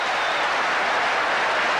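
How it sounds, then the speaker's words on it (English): A dense, steady roar of crowd applause fills a rugby league stadium at Halifax during a Hull FC match in the 1988-89 season, with no single voice standing out. "Rapturous applause from the crowd."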